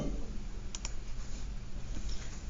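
A number being typed on a computer keyboard, faint quick key clicks over a low background hum, with no talking.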